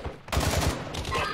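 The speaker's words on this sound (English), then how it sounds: "This man is running and shooting." Rapid bursts of gunfire from the video game Warzone, several close, punchy shots in quick succession followed by continued loud firing and game noise.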